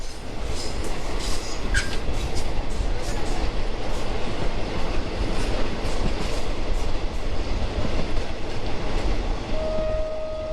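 A train rumbles steadily along a double-track railway line between Lopburi and Nakhon Sawan, Thailand, a dense continuous roar with faint rhythmic clatter of wheels, loud and close throughout.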